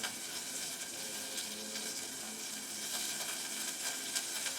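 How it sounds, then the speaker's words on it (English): Butter melting in a pan on the stove gives a steady, fairly soft sizzle that continues evenly throughout, with no talking. "I'm starting to melt the butter."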